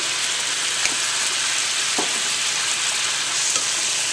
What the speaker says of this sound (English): the liquid, because it's boiling, it's going to start to reduce and get a little thicker